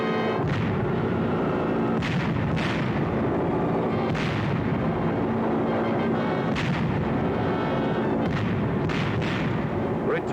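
Bombs exploding during a B-24 bombing run over Messina, with repeated heavy booming blasts at irregular intervals over a continuous low rumble of engines and distant fire.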